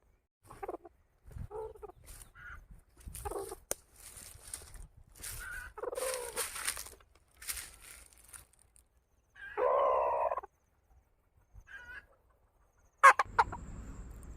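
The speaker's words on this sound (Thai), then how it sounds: "ไก่แม่กระตากเอ็ดลูกนะครับผม" A junglefowl hen clucks at her young chicks in short, scattered bursts close by, with soft chirps and low clucking calls spread across the quiet.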